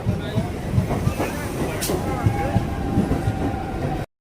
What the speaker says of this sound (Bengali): আমাদের ট্রেন এসে গেল চলো উঠে পড়ি